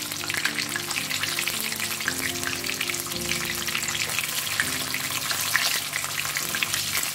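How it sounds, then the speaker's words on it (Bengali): Chicken pieces fry in oil over a medium flame, giving a continuous bubbling sizzle with faint stirring clatter at moderate volume and no speech. "আমি চুলোর ফ্লেমটা মিডিয়াম রেখেছি এবং এটা আস্তে আস্তে আমি ভেজে তুলবো, যেন ভিতরে কাঁচা না থাকে।"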